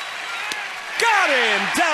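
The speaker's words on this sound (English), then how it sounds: "They cheer their right-hander along, who's been amazing here once again at home against the Rockies. Nice crowd to its feet in the 8th." A baseball stadium crowd in Washington cheers and applauds in the 8th inning of a home game against the Rockies, a broad steady roar that swells about halfway through, with a commentator's voice over it.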